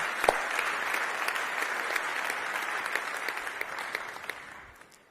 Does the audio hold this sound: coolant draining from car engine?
no